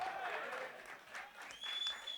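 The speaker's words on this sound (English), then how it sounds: "This is the time you start clapping now, yeah?" An audience at a jazz music workshop claps in a quiet, scattered patter, with voices and a brief whistle-like tone mixed in over a couple of seconds.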